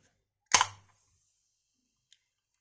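A can of Non Stop Ultra energy drink cracks open with one sharp pop and a short fizzing hiss, close by in a quiet room, and a faint tick follows a moment later.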